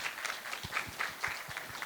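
Small audience at a panel discussion applauding, light and faint clapping from a modest group in a room, a brief uneven patter heard at a distance.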